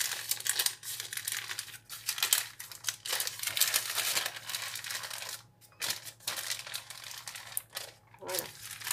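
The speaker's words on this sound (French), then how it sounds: "Vous décollez délicatement du papier cuisson." Parchment baking paper being peeled off a cooled white-chocolate and raspberry cake layer, a steady close crinkling and rustling texture with brief pauses, with no talk over it.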